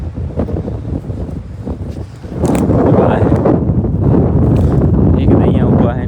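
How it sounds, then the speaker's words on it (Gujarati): Strong wind sweeps across open scrubland, roaring and buffeting the microphone in loud, sustained gusts that intensify midway, with a voice heard intermittently. "પવન એટલો જ છે વાયરો."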